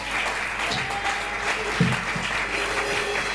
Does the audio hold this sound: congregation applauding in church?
yes